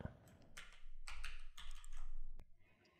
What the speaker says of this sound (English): and type in the text that I want.